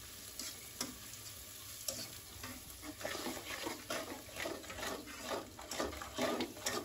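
Greens fry with onion and chili in a pan, a constant sizzle broken by repeated scraping stirs and spatula knocks at an uneven rhythm.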